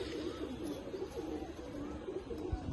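Giribaz pigeons of the Palla line coo softly at a loft, a low rolling murmur of overlapping calls that continues steadily throughout, with no voices.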